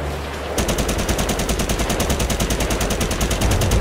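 Sustained automatic gunfire in GTA 5, a loud, rapid, evenly spaced burst of shots that kicks in after a brief quieter moment and rattles on without pause to the end.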